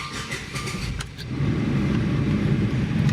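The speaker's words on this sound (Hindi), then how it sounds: "गाड़ी को मैं स्टार्ट कर लेता हूँ" A Tata Curvv's engine starts partway through, the sound shifting from quiet cabin noise to a steady low idle rumble heard close from inside the car, with no talking.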